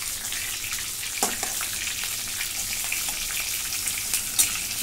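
Bell peppers (capsicum) fry in a pan with a steady, dense hiss of close sizzling, marked by a couple of brief scraping clatters as the pieces are flipped.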